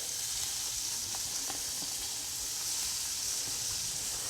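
Onions sautéing in a pan as a mushroom appetizer begins, giving a soft continuous sizzle with a few faint utensil taps. No one speaks.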